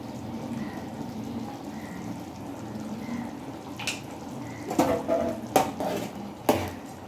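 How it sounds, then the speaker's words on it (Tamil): Spoon stirring ground pepper into corn soup in a metal pot, starting as a soft background swirl and turning into a few louder clinks and scrapes against the pot toward the end. "இதை எப்படி பொறுமையாக கலந்து விட்டுக்கலாம்"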